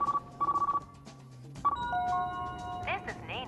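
Phone line ringing through to a bank after a voice-command call request: repeated electronic ring tones in evenly spaced bursts, followed by a brief tonal signal of connection, clear and close.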